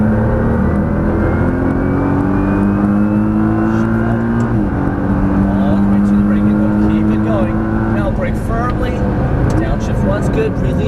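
Nissan GT-R at full throttle on the Las Vegas Motor Speedway track, its engine climbing loud and continuous in rising pitch sweeps through gear changes, with an instructor talking over it.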